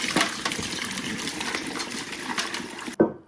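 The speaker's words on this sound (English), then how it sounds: "And then we're going to pour our brine on top of that and close up the bag." Cooled brine pours steadily over a turkey in a bag, a close continuous splashing gush of liquid that stops abruptly near the end with a small thump.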